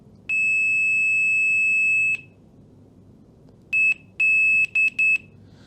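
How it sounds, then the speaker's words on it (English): A Pokit multimeter in continuity mode gives a loud, pure-toned beep lasting about two seconds as its test leads touch, then several shorter beeps in quick succession as the contact breaks and returns. "You should get a nice, loud, long beep."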